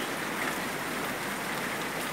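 Steady rain falls on a garden pond with plants and fish, a dense, even patter of drops hitting water and leaves, continuous and close with no voices.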